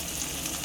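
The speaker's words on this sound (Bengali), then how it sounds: "তো এই যে এখানে এবার টমেটোটা দিয়ে দিলাম, পেঁয়াজগুলো হালকা ভাজা হয়ে গেছে" Onions and tomato fry in a pan for a curry, a soft steady sizzle heard briefly and fairly quietly with no talk.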